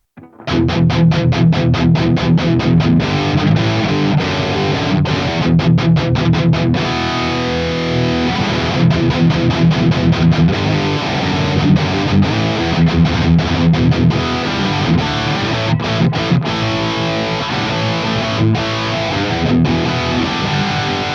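Ernie Ball Music Man electric guitar with heavy high-gain distortion and boost, loud chugging riffs and sustained chords played continuously with short muted gaps.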